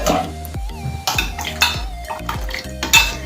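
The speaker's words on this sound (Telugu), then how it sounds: "ఇప్పుడు ఇది ఉంచుకున్న పాలలో ఇది మొత్తం వేసుకొని కలిపేసుకోవాలండి ఒకసారి." A utensil clinks and scrapes against a metal pan while pudding mixture is stirred into milk for coconut pudding, giving repeated sharp knocks at an uneven rhythm, close and fairly loud.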